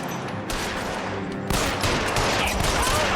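Gunfire in LA Noire, rapid volleys of shots that grow louder and denser midway, echoing sharply with no talk.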